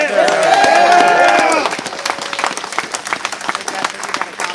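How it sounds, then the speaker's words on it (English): Crowd applause at a patriot march in Louisville, Kentucky: loud clapping and cheers at first, thinning to scattered claps that carry on to the end. "I want to give a round of applause to the men and women who have fought for our country"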